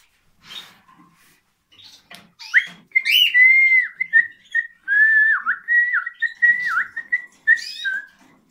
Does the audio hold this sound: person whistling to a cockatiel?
yes